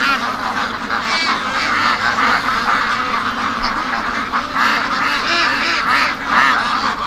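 Ducks penned up all day raise a loud, continuous racket of overlapping quacks and honking calls, close by and without a break.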